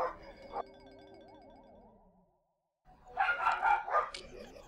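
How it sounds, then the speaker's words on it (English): Dachshunds bark in a short flurry, loud and close, over game music and sound effects from Super Mario Galaxy; no one speaks. "And the dogs are barking again."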